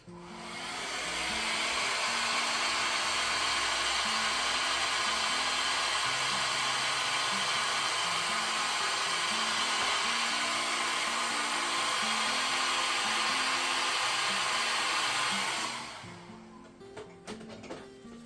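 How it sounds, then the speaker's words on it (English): A hair dryer blows steadily at close range with a loud, continuous whoosh, then shuts off near the end, leaving quieter handling sounds. "I'll put the hairdryer on it one more time."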